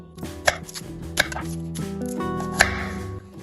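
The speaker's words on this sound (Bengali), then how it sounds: "পেঁয়াজগুলো বেশ ঝিরিঝিরি করে কাটতে হবে" A knife chops onion, tomatoes and coriander on a board, with three sharp, distinct knocks spaced about a second apart over faint background tones.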